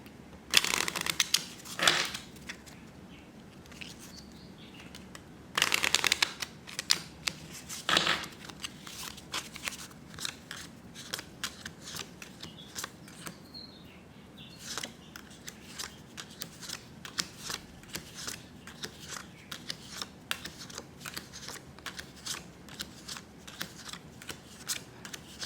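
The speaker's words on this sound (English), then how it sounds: "Now we'll shuffle for the 3rd time." A deck of playing cards is shuffled by hand during a card reading, giving crisp riffling bursts and soft rapid flicks that repeat in uneven clusters, close and fairly quiet, with no voices.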